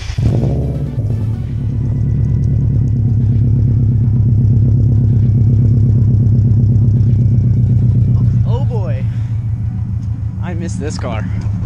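A car engine cranks and catches in freezing weather, then settles into a loud, close, steady idle with a throbbing rumble, and a person talks briefly near the end.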